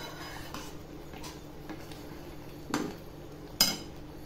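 A spoon stirs semolina sheera with a small banana and cardamom powder in a pan, giving quiet scraping and a couple of sharper metallic clinks near the end, with no talking.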